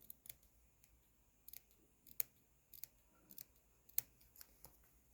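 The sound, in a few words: scissors clipping notches in fabric seam allowance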